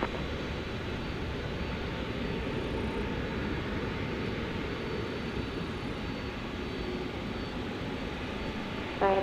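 Airliner landing on runway 18 right at DFW airport at night, a steady distant engine roar that holds evenly throughout with no voices.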